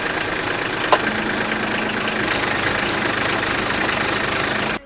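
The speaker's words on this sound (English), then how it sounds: "Go ahead and start your tractor and lift them out of the way." A Kubota B series tractor engine runs at a steady idle, a loud, even diesel chug with faint knocking and a sharp click near the start.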